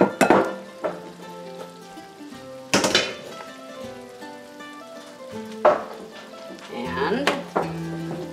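Perogies hit a hot pan with several loud clatters and thumps, then fry in a steady sizzle as a utensil scrapes and stirs them up close.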